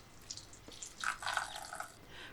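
Boiled rice being drained in a colander for Persian lubia polo, water splashing and trickling through in a soft, close, brief pour with a few louder gushes.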